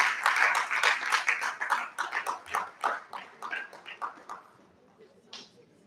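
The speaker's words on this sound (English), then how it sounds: "A round of applause for him as he takes his seat." A seminar audience gives a round of applause, a close burst of many hands clapping that thins and fades out over several seconds.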